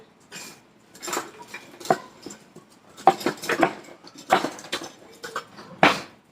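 A red spatula stirs onion strips in a pan for fried onion strings, giving scattered close scrapes and clinks against the pan in an irregular rhythm, with quiet gaps between the strokes.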